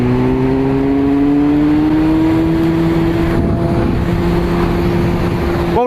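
A Honda FireBlade 954 inline-four motorcycle engine revving, a loud, close, steady buzzing drone whose pitch climbs slowly and smoothly over several seconds, with a brief break at the very end.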